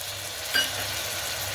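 Potatoes dropped into hot oil for a veg pulao, giving a brief soft splash and hiss over a faint, steady sizzle in a quiet kitchen.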